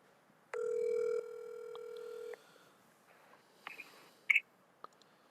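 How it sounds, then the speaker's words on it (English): A phone call comes in, giving one long steady electronic ringtone tone of about two seconds, followed by a few faint clicks and a short bright chirp. No one talks over it. "Oh, hold on, Matt's calling me."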